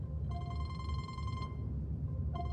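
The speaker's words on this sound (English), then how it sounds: "Getting a phone call." An incoming telephone call rings in two electronic bursts, a long ring followed by the start of another, loud and close over a low background rumble in a snowy barn setting.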